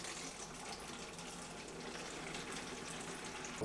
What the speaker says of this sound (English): To get that out, we're gonna siphon it out of this tank.